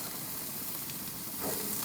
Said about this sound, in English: Look at that sizzle right there.